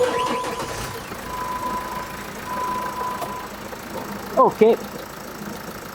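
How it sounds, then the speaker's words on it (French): A Jeep Wrangler engine idling after starting, a steady low rumble throughout, with a short spoken word and a couple of brief beeps near the end. "on va démarrer le Jeep"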